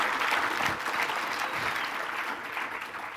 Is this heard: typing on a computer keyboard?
no